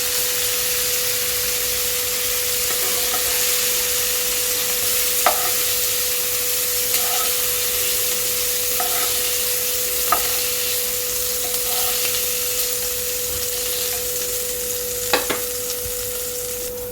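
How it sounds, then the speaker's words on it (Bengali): Steady crackling sizzle of whole cumin, bay leaves and whole garam masala frying in a spoonful of hot oil, with a few sharp pops and occasional stirring clicks; no talking. "সামান্য এক চামচ তেল দিয়ে দিলাম এবার আমি দিয়ে দিলাম গোটা জিরে তেজপাতা গোটা গরম মশলা"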